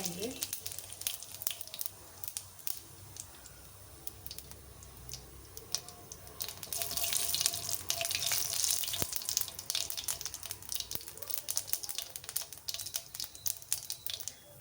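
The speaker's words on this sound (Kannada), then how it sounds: "ಈಗ ಜೀರಿಗೆ ಹಾಕೋಣ. ಜೀರಿಗೆ ಪಟಪಟ." Cumin seeds crackling and spluttering in hot oil in a pan, a dense close sizzle that grows louder and busier midway, with faint clatter.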